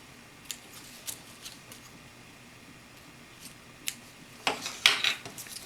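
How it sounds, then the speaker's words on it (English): Scissors snipping sewing threads after zigzag stitching on thin, delicate fabric: a few faint, sparse clicks early on, then a brief closer cluster of crisp snips near the end, quiet and alone. "Cut the threads."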